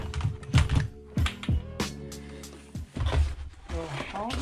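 Typing on an old computer keyboard, with dense clusters of key clicks in uneven bursts, heard up close. A person talks over the typing.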